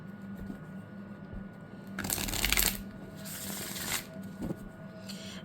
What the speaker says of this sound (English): even when overhand shuffling, I find that the blue one with the sort of rose petally, tends to clump